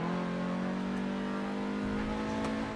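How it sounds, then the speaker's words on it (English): McLaren 4-liter twin-turbocharged V8 hybrid engine revving, a sustained loud tonal roar with a steady pitch and slight rise, close and alone without voices. "a twin turbocharged V8 with a parallel hybrid system e-motor"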